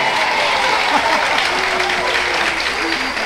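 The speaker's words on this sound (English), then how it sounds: "Might as well applaud yourselves too." A live audience at an outdoor park concert claps steadily and densely throughout, loud and close, with faint voices and cheers mixed into the applause.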